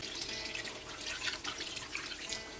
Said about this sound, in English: Just going to throw this off and rinse it.